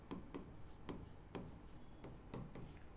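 A pen writes accounting entries for a bank loan line on paper. Quiet, close scratching strokes arrive in a loose, regular rhythm of short bursts.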